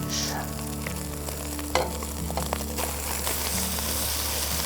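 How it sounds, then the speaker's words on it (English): Sausage sizzles steadily in bacon grease in a pan, a continuous close frying hiss with a few soft pops and clicks, no voices. "we got half the bacon grease in the pan, and now we are going to add our sausage"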